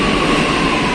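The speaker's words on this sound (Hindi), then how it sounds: "लीजिए जी, आते ही मेट्रो भी आ गई।" A Lucknow metro train arrives at a station with a loud, steady rumbling roar that fills the whole moment, close by and with no talking.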